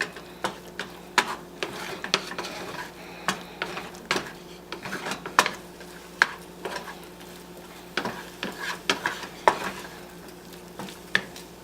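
Eggs being scrambled in a pan: a spatula repeatedly scrapes and taps against the pan in an irregular rhythm, close and clear, over a faint steady sizzle, with no talking.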